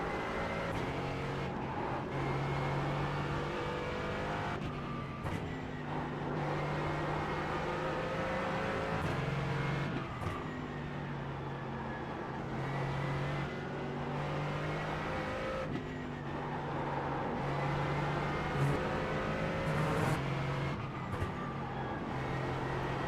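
Race car engines in the iRacing video game at the Nürburgring roar continuously and close, rising and falling through repeated gear shifts with faint passing cars.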